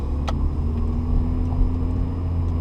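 A manual car pulls away in first gear in a parking lot, its engine droning loud and close as the pitch rises slightly with gentle throttle, without speech.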